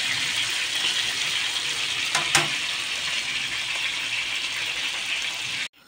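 Steady, loud sizzling of chicken frying in hot oil, a continuous crackling hiss with a brief stirring clatter partway through, then sudden quiet at the end.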